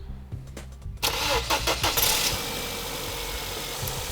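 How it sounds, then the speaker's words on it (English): A car engine with a dead battery, being jump-started, cranks briefly, catches and fires up, then settles into a steady idle, close and fairly loud. "you can start the engine in your dead car"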